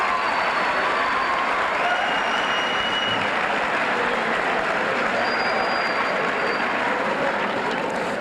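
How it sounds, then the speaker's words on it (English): Steady, dense applause from a crowd at a school fall sports assembly, continuous and fairly loud throughout with no pauses. "I think they deserve a nice round of applause."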